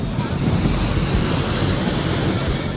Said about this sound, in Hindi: कुएं का पानी मचल रहा है, हिलोरे मार रहा है